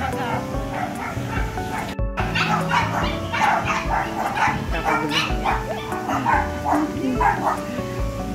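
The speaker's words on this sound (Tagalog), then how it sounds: "Nakakagulo ng mga aw-aw." Several dogs bark and yip repeatedly in a busy outdoor spot in Bonifacio Global City, the barks close and overlapping over a constant murmur of people talking.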